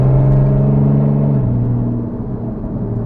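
A Porsche sports car's engine drones loudly with a deep exhaust hum, the pitch stepping down midway as if shifting gear, then settling into a steady lower rumble with no voices.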